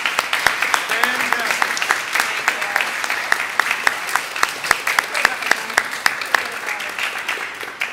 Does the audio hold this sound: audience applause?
yes